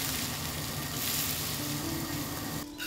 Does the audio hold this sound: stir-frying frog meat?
yes